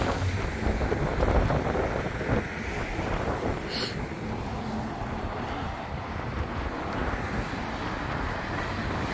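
Strong wind buffets the microphone at an outdoor fishing spot under a dark sky, a steady rough roar that never lets up, broken once by a brief high chirp.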